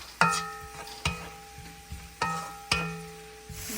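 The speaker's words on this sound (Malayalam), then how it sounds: "ഇനി ഒരു തക്കാളിക്കായും കൂടെ ഇട്ട് കൊടുക്കാം. നല്ലപോലെ വഴണ്ട് എണ്ണ തെളിഞ്ഞ് വരണം." Onion and tomato sautéing in oil in a pan are stirred with a metal spoon, which strikes the pan about six times in uneven rhythm, each knock ringing briefly before fading.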